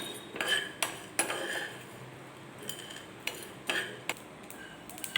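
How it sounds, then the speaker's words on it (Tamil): A utensil stirs cumin, poppy seeds and pepper as they dry roast in a pan for goat soup spice, making intermittent metallic clinks and scrapes over a quiet background. "இது எல்லாத்தையும் வந்து நல்லா அப்படி வந்து வறுத்து எடுத்துக்கோங்க பொன்னிறமாக."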